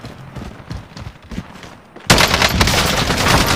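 Warzone video game gunfire: quiet scattered sounds give way to a sudden, loud burst of rapid automatic shots that keeps going to the end.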